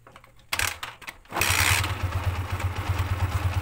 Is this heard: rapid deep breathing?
no